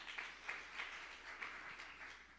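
A church congregation gives a round of applause during a sermon, faint and distant, a soft wash of many hands with a few sharper claps standing out, steady throughout.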